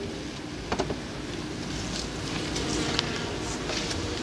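Honey bees hum in a steady, moderately loud drone at an opened hive, with a few brief closer buzzes and faint clicks over the continuous swarm sound and no talking.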